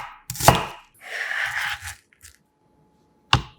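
A knife cuts diagonally through green onion leaves on a cutting board, giving a sharp chop, a short run of crisp slicing and one more chop after a pause, close and clear.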